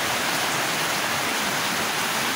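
Dense, constant hiss of heavy rain pouring down around a large fishing boat, loud and close with no breaks.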